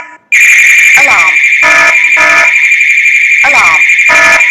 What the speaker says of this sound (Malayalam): ഇപ്പം ആക്റ്റീവായി മോഷൻ സെൻസർ ട്രിഗർ ചെയ്തപ്പോൾ അലാം അടിച്ചു.